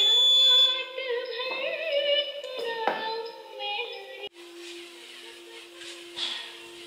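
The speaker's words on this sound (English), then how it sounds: "As you can see, the buzzer starts." An electronic buzzer alarm on a student-built automatic infant cradle, triggered by a wetness sensor, sounds loud and close with a steady tonal drone that shifts pitch partway through.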